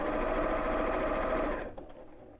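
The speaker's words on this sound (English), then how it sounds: "And just keep sewing." Sewing machine stitching a drawstring bag made from Christmas fabric, a loud, steady close mechanical whir that runs continuously, then stops abruptly, leaving faint room sound.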